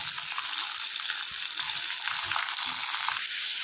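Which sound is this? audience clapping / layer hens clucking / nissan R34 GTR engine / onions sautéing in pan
onions sautéing in pan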